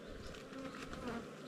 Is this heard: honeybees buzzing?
yes